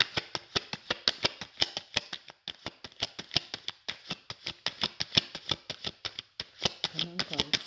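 Tarot cards are shuffled in a quick, crisp run of riffling snaps, close and fairly even in rhythm, with a few short breaks, and a brief spoken murmur near the end.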